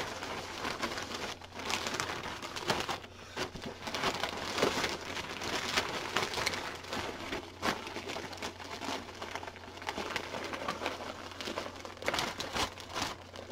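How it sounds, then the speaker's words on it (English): Paper being folded and wrapped around a package for shipping: steady, dense crinkling and rustling close by, continuous for several seconds with no talk. "Okay, so now we fold it."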